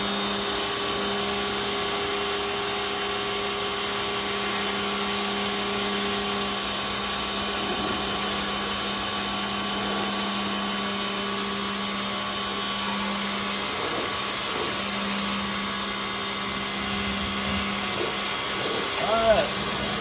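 A WestForce electric pressure washer sprays a rinse, its motor holding a steady, loud humming drone with a constant tonal whine for the whole stretch, and the pitch shifts slightly near the end.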